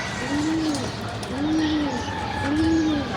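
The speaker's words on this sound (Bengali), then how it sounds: "দেখেন সব করে নতুন কবুতর আমার, আজকে ওদেরকে ফার্স্ট উড়াইছি" Newly kept pigeons coo outdoors after their first flight, three smooth rising-and-falling calls spaced about a second apart, fairly close and clear over a steady breezy background hiss.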